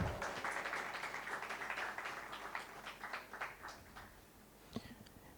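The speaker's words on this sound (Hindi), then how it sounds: "बहुत बहुत तालियां।" Audience applause greets a chief guest being welcomed with a memento at a social entrepreneurship leadership camp, steady clapping from a crowd that gradually thins and fades, with a sharp single clap near the end.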